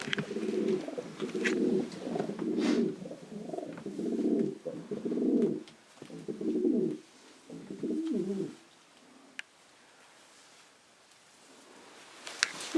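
Janssen racing pigeons cooing close by, a series of soft, low repeated coos in bursts that fade into quiet near the end, with a few faint clicks and no speech.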